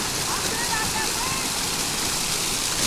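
A waterfall pours with a constant, loud rushing roar of water, steady and unbroken from start to finish; people may be talking faintly under the noise.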